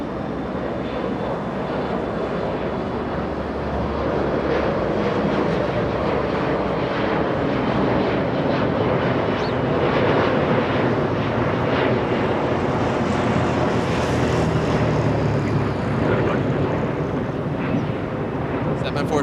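A jet airliner taxis east on a taxiway at Los Angeles International Airport, a steady, loud engine roar that rumbles on throughout with some wind noise and faint talking beneath it.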